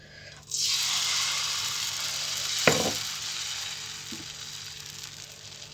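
Moong dal batter for pesara dosa hits a hot pan and breaks into a loud, steady sizzle that slowly fades, with one sharp clack partway through.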